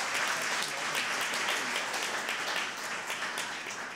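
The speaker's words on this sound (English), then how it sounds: "So give God a hand clap for the timing with that." A church congregation applauds together, a dense, steady wash of many hands clapping at close range that holds for several seconds without a break.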